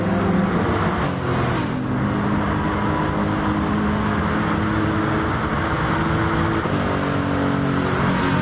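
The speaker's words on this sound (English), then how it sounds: "With a lap to go, Unforgiven first place, just managing to hang on there from Paul." Race cars in a PS4 racing video game, a loud continuous engine roar and whine with shifting pitch as the cars run a final lap, heard alone without talk.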